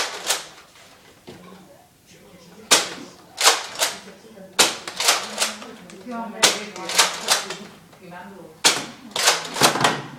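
Nerf toy blasters fire at two targets in a series of sharp, snappy pops and clacks, with a few louder bursts spread across the span, while a person talks throughout.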